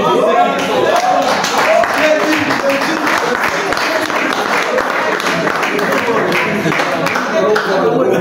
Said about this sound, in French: Veuillez applaudir très très beaucoup.